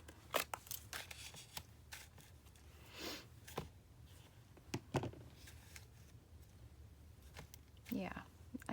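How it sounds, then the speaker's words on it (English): Scissors cut through cardstock paper at a crafting desk, giving a series of short, close snips and crisp crunches at irregular intervals with a little paper handling between cuts. "Alright, let's cut this down just a little bit more."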